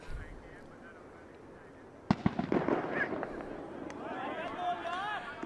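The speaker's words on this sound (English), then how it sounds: "Fireworks going off in the background." Fireworks crackle and pop in the background at a Midwest Premier League cricket match, a burst of sharp bangs starting midway and continuing over steady crowd noise and a faint whistling tone.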